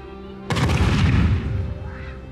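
A firework launches with a sharp, loud thud and a whoosh, then a long rumbling decay trails off over about two seconds.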